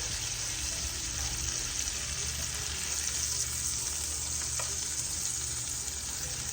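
Tri-tip steak sizzles in butter in a pan, a loud, continuous frying hiss that holds steady throughout with only a faint tap near the end, and no voices.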